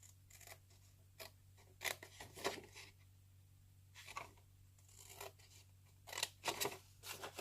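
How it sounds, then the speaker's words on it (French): Scissors cut through card for a baby keepsake box in short, crisp snips. Some come singly and others in quick pairs and clusters, close up over a faint low hum. "Donc moi je l'ai fait au ciseau"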